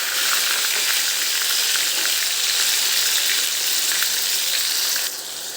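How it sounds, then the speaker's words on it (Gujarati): A paste of onion, garlic, ginger and green chili sizzles in hot oil in a pan for Nadiad-style dal puri, a loud, steady crackling hiss that eases slightly at the end. "હવે આ પેસ્ટને આપણે સાંતળવાની છે"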